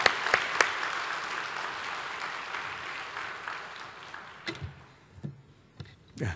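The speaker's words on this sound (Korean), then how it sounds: "우리 기대하면서 큰 박수로 맞이하겠습니다." A church congregation applauds steadily for several seconds, dense clapping that tapers off into scattered claps and a few faint bumps near the end.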